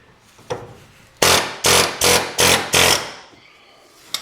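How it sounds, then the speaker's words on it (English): Air impact tool driving out a track bar bushing on a Jeep XJ: a faint knock, then five loud rattling bursts in quick, even succession, each about half a second long, with a short gap after each burst. "So this is where it's nice to have a little bit of air tooling here."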